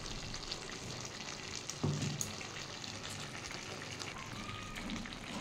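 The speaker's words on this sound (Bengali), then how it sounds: "মিক্সির বাটি দেওয়া জলটাও দিয়ে দিলাম।" Water rinsed from a mixer jar splashes into a pan of sizzling poppy-seed paste with green chili for gourd greens charchari, giving a brief low splash and gurgle over a steady fry hiss.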